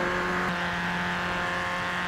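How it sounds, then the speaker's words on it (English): A Ford Racing Puma's 255-horsepower engine pulls hard uphill in a lightweight car, a loud, steady droning roar heard from inside the cabin that holds its pitch under continued acceleration. "See, we're going up a hill now and we're still accelerating."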